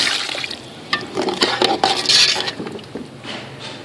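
Water splashes into a pot of spice-fried peas for a simple village-style matar pulao, with metallic clinks of the pot and utensils and uneven gushes and sloshing.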